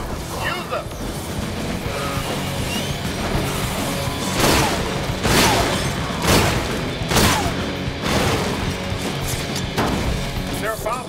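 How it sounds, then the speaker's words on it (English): Barricades being smashed apart by enemies in Sunset Overdrive, a dense game mix of repeated crashing impacts and bursts of weapon fire over loud background clutter, with several heavy hits spaced a second or two apart. "They're breaking down the inner barricade."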